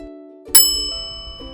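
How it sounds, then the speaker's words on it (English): A bright bell rings once with a sharp ding that hangs and slowly fades, loud and close against a quiet tonal background. "Did you hear a bell?"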